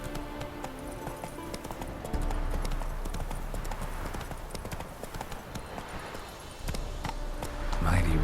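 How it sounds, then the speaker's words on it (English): Roach, the horse in The Witcher 3 video game, gallops in a quick rhythmic clip-clop of hooves, close and steady and picking up speed, while a voice speaks briefly over it. "Whoa there, Roach."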